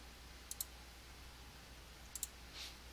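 Computer mouse clicking during PowerPoint work, two quick pairs of sharp, close clicks over a quiet background hum, no talk.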